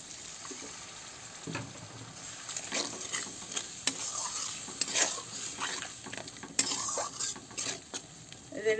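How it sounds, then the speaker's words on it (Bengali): Tomato masala for prawn curry frying and being stirred in a pan, a soft continuous sizzle with repeated scraping and clinks of the spoon against the pan, fairly close and without talk. "এটা ভালো করে কষাই নেবো টমাটারটা।"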